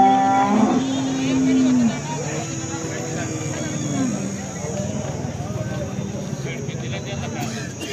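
Holstein Friesian (HF) cows at a busy cattle market in Alephata give a low moo early on, set against ongoing crowd chatter and market bustle.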